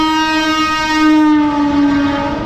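A train horn sounds a loud, sustained, steady tonal blast at Nashik railway station at night, lasting the whole moment, with no talking.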